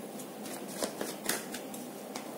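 Tarot cards are shuffled in a quick, soft riffling flutter of repeated papery snaps, close and fairly quiet, with no talking.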